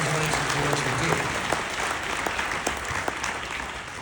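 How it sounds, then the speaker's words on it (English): A conference audience gives a round of applause, a continuous even wash of many hands clapping at moderate distance, with a brief murmur of voices early on and a few sharper individual claps standing out. "Let's give Courtney a round of applause."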